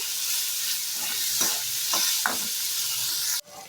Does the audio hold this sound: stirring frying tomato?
yes